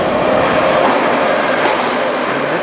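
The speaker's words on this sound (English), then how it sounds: "I'm now in the subway. I don't know where I'm going, so I'll just jump on the next train" Moscow metro subway train running underground, a loud, steady rumble of rolling carriages with faint rail squeal and clatter, continuous throughout and without talk.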